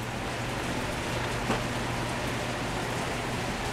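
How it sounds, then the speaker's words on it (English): Heavy rain pours outdoors as a loud, even hiss that fills the whole stretch, with a low steady hum beneath and no voices. "It's raining. Look at that rain."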